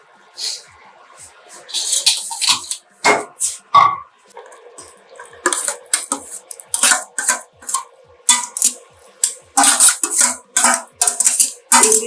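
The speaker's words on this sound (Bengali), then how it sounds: "এবার ইন্ডাকশনটা অফ করে দিয়ে একটা পাত্রে নামিয়ে দিচ্ছি।" Prawn bowl chachori, a prawn curry, is moved from a pan into a serving vessel, with repeated scraping, clinking and wet slopping sounds in irregular close bursts separated by brief pauses.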